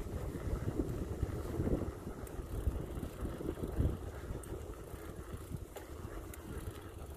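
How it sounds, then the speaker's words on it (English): Wind gusts outdoors at a coastal inlet by a park, a heavy rumbling buffet against the microphone that rises and falls over a low steady roar, with no clear voices. "it's kind of windy out."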